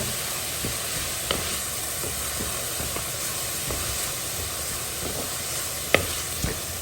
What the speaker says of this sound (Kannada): ಸೇರಿಸ್ಕೊಂಡ್ಬಿಟ್ಟು ಹಸಿ ವಾಸನೆ ಹೋಗುವವರೆಗೆ ಸ್ವಲ್ಪ ಇದನ್ನು ಕೂಡ ಈ ರೀತಿ ಹುರ್ಕೊಂಡ್ಬಿಡೋಣ